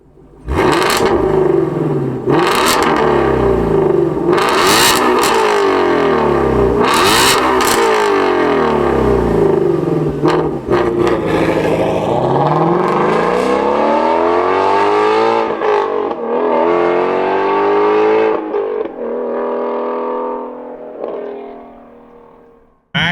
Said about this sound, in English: let's hop in, fire off that Voodoo V8 engine, and go for a little spin